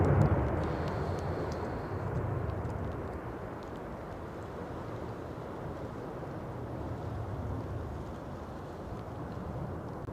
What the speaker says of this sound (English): It's the A350 1000